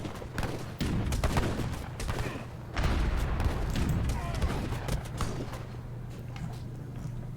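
Heavy cannons fire at Black Riders in a strategy video game, a dense battle din of rapid gunfire, booms and mechanical clatter that rolls on steadily at moderate volume.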